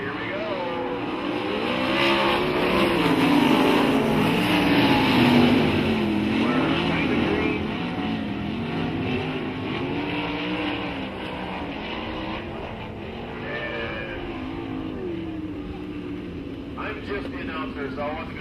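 Sprint cars race around the dirt track at I-96 Speedway, their engines rising and falling in a continuous roar. A PA announcer talks over the pack throughout.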